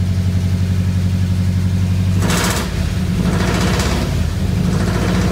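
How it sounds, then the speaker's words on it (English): A 1985 Ford Bronco engine running with a loud exhaust, a steady low rumbling idle close by, with two brief revs pushing the roar up before it settles back. "Got pretty loud exhaust on it."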